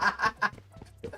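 Chicken clucking in the PUBG Mobile game: a few short, loud, throaty bursts in quick succession, then a quieter stretch before one last call.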